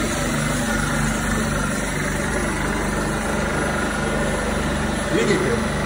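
Refrigeration equipment hums in an apple storage facility with controlled-atmosphere chambers, a loud, steady mechanical drone with a tonal whine and vibration. A voice talks over it.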